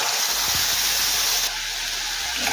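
A mixture of water with cumin, coriander and dried chilli powder hits a hot pan, giving a loud, continuous hissing sizzle that stays strong and steady, dropping slightly partway through.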